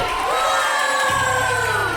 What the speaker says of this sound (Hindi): चलो सब तालियों से उनकी विदाई करो।